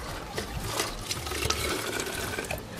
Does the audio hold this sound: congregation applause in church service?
no